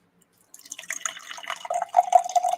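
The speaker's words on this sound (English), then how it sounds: "Now we're gonna pour the Boston tea." Boston tea poured from a can into a glass, starting with gurgling splashes and settling into a steady trickling fill, close and clear.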